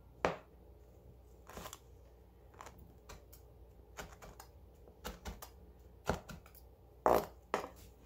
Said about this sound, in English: So we're just going to chop these rosemary leaves a little bit and add those right in.